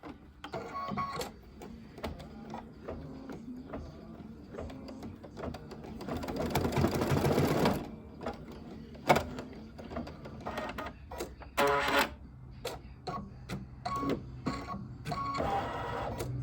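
A sewing machine stitches down a seam on a towel topper, running in several whirring bursts with short pauses and clicks between them, up close and fairly loud.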